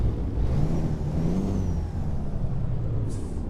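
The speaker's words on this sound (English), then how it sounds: "Jump on the outside and let's listen for the engine." A heavy Freightliner Argosy truck engine idles in American Truck Simulator with a steady low rumble and mechanical whir, heard from outside the cab, continuous throughout with no talking.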